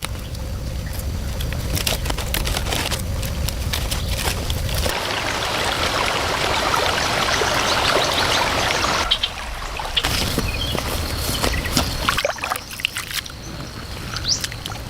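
A river stream flows steadily in a forest setting with trickling, rushing water, close and continuous, its texture shifting between softer and brighter passages, with no talking.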